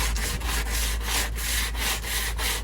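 Pallet wood edges rubbed smooth by hand with a sheet of sandpaper, a steady rasping scratch repeated in quick strokes, close and continuous with no talking.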